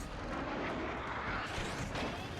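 Warship guns firing in the World of Warships game, a faint, distant rumbling boom with a rolling, echoing tail and no clear separate shots.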